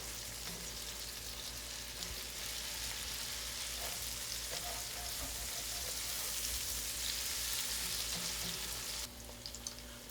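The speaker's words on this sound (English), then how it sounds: "I'm scraping on the bottom" Metal spoon scraping the bottom of a pot while vegetables brown for seafood étouffée, under a constant loud sizzle with scattered scrapes and clicks, no talk.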